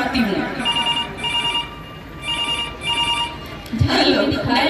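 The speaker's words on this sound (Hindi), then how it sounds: "अभी डायल 112 पर फोन करके" A telephone rings in repeated bursts as an emergency 112 call is placed, the electronic trill pulsing on and off close by, with a voice briefly heard near the end.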